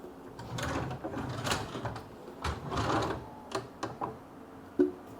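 Drawers in a Benidorm hotel room sliding open and shut, a run of close wooden knocks and scrapes in quick succession with a sharper thud near the end.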